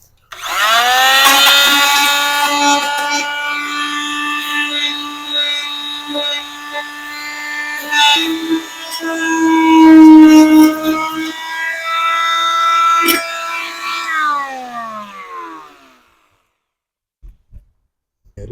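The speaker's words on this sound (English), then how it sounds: "Start off with this great multi-tool." Oscillating multi-tool cutting into wood on a window under repair: a loud, buzzing, close-up whine that shifts pitch as the blade bites, running for about fifteen seconds before stopping, then a few faint knocks.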